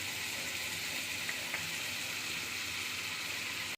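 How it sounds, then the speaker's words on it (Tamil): Chicken sautés in an open pan for Chettinad chicken sukka, producing a dense, even sizzle that holds steady at close range and then cuts off abruptly. "நல்ல ப்ரௌன் கலர் ஆகிற வரை நல்லா வதக்கணும். மூடி வைக்கலாம் கூடாது, அப்படியே நல்லா வதங்கட்டும்."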